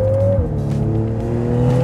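A 2024 Volkswagen Golf R engine drones loudly from close by as its DSG gearbox shifts quickly, the engine tone dropping sharply at a shift and then climbing steadily again.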